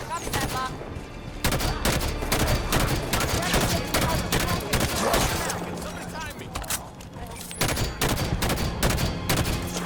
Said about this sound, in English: that's a binary rifle